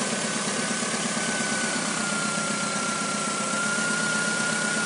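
A car engine idles steadily under a slight alternator load while it recharges the battery, giving a constant, fairly loud hum with a faint whine running through it and no voices.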